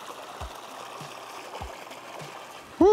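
A small stream trickles and burbles steadily, with a few soft low thumps, ending in a brief louder splash.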